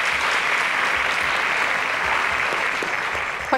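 A studio quiz-show audience gives a round of applause, with sustained, even clapping from many hands, loud and continuous, ending with a brief bump at the close.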